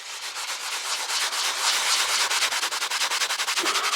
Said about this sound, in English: let's go back and start scrubbing at that product a little bit.